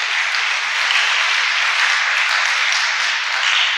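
Loud, steady applause from a church congregation during a Sunday Mass at St. Joseph's Parish, thanking donors for the church's construction, with dense clapping sustained evenly throughout.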